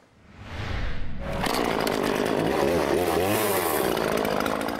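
A chainsaw revs up after a brief quiet start, then roars steadily and loudly up close, its pitch wavering as it carves into wood.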